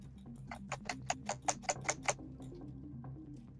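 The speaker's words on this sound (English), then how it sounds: "Nope, just some keyboard." Faint, distant clicking of a computer keyboard in a quiet room, a short burst of about a dozen evenly spaced keystrokes with no talking.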